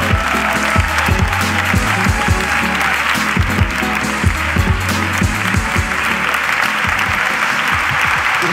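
Dense, loud applause from a live audience greets Gregori's reunion at a comedy podcast taping, a steady wash of many hands clapping close by for several seconds, with low thumps and scattered whoops mixed in.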